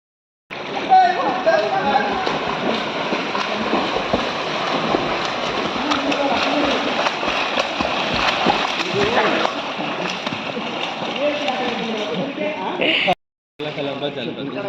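Sea waves splash and surge continuously on a Goa beach, a loud, steady wash of churning water close by that cuts off abruptly near the end, with voices heard now and then.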